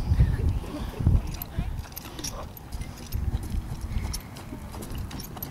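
Hooves of a six-year-old thoroughbred clip-clop over ground in a riding lesson, a loose uneven stride of muffled thuds at moderate distance, with a person talking over them.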